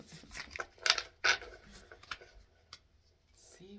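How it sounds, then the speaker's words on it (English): Large oracle cards are shuffled by hand, soft riffling slaps and papery clicks in a few quick bursts, close and fairly quiet, then tapering off into near silence. "These cards are hard to shuffle because they're huge."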